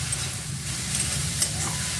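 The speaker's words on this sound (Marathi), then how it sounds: "एक मिनिटभर असा आपण मुळा भाजून घेऊया कढईत" Radish pieces dry-roasting in a kadhai with no oil produce a steady, fairly loud crackling hiss and faint scraping of stirring, close up.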